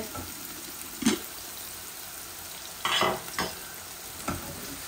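Onions sizzle softly in a pan while a spoon stirs and scrapes them in a few separate bursts over a steady low frying hiss.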